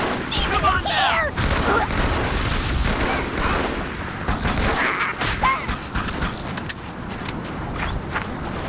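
Turret gunfire rattles through a battle in a Halo video game, dense continuous bursts with booms and mechanical noise mixed under shouted voices.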